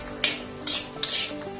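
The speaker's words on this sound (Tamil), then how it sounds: "இப்ப கேரட்டையும் நல்லா வதக்கணும்." Egg and carrots being sautéed for Thai-style fried rice, nasi goreng, make a light frying sizzle with three quick bright scrapes of a spatula in a pan, close and short, with no one speaking.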